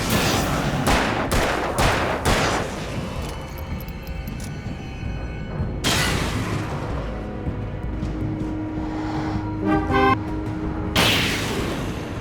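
Explosions and gunfire from the video game Alan Wake DLC, with sharp blasts early on, rattling bursts and booms, and a heavy crash near the end, loud and dense throughout.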